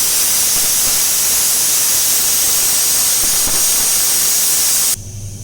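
A loud, continuous steam hiss whistles from a pressure cooker cooking goat trotter paya for several seconds, then cuts off abruptly near the end.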